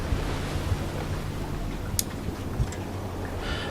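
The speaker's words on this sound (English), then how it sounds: "The sound of it moving, the sound of the chains of the water hitting the bottom of the boat." In the video game Dear Esther, water laps against the hull of a moving boat: a soft, continuous wash of surf-like noise with faint splashes and a breathy hiss, quiet and even throughout.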